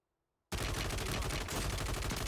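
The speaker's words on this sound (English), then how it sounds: "you see an extra shot come in from the right-hand side" Rapid gunfire erupts abruptly in the Warzone video game, a dense, loud burst of overlapping automatic shots that continues without pause after a moment of silence.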